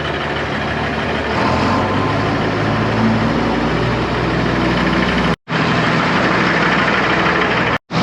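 A John Deere tractor engine idles with the PTO engaged while filling a silo, a loud, steady low diesel drone throughout with two very brief cutouts.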